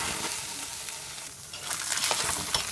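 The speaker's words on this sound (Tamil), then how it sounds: "நல்லா வறுத்துக்கணும்" Mashed goat brain fries in a pan with curry leaves and cumin, a dense close hiss of sizzling oil with light scraping stirs, steady and unbroken, with no voices.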